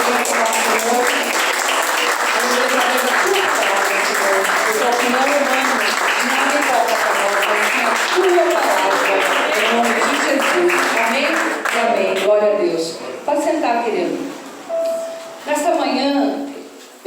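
A church congregation applauding during an evening service, sustained loud clapping for about twelve seconds that thins into scattered claps, with voices audible as it fades.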